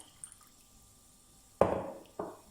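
A quiet lull, then a sudden splash of vinegar being poured into a hot marinade, followed by a second shorter pour, close by.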